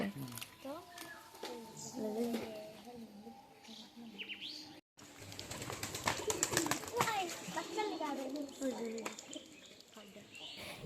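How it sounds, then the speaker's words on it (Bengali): Pigeons kept as a hobby cooing in a rural loft, soft repeated throaty coos and a few chirps at close range, heard under ongoing talk throughout. "এগুলো হচ্ছে আমার ছোট মামার কবুতর"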